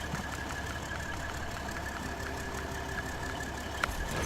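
A Volvo truck engine runs steadily nearby, with a faint high-pitched turbo spool whine above the low rumble and a brief sharp tick near the end.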